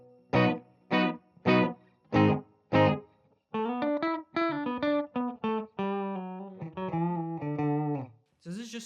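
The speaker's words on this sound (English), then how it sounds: "I do have a delay with my reverb pedal as well, so this is just a slap delay" An electric guitar runs through a reverb pedal set to a slap delay: a few evenly spaced strummed chords, then a quicker run of single notes, each trailed by a short, tight echo.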